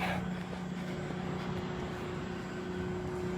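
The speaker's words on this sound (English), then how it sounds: "Helicopters, sirens going off." A steady low engine drone of helicopters overhead in St. Paul, Minnesota, hangs in the air with a constant hum, continuous and moderately loud.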